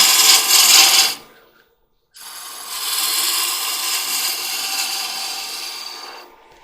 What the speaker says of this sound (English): Just turn a little bead at the end.